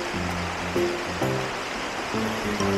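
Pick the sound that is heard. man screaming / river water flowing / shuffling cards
river water flowing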